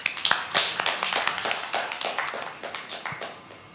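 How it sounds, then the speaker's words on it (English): Applause from the audience at an international business management and innovation conference, a loose crowd of individual claps with distinct sharp slaps that thin out and fade toward the end. "I think we should give you more applause for that."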